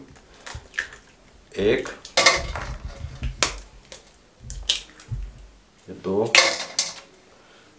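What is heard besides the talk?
eggs being added to cauliflower kebab mixture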